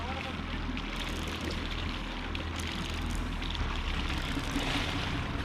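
A boat engine drones steadily over splashing, churning water near La Paz, Mexico, close and continuous, with faint voices in the background.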